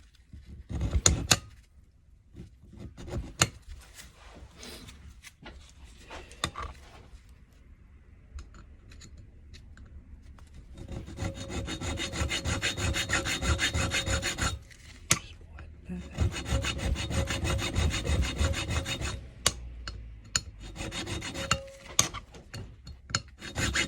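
The last step being cut into a key for an old mortise lock: bursts of rough rhythmic filing and rasping on metal, steady strokes in two long stretches with short scrapes and pauses between, close and alone.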